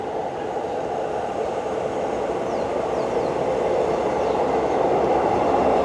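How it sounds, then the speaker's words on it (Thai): A train arriving at Hua Hin railway station rumbles steadily and grows slightly louder as it approaches, with a continuous rolling roar and faint high squeals. "มานี่รถไฟมา พอดีเลย"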